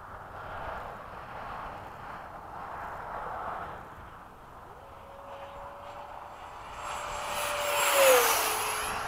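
A Freewing 90mm F-15 Hot Rod model jet flying in windy conditions, a faint whooshing turbine hiss that swells as the jet sweeps close near the end with a rising then falling whine.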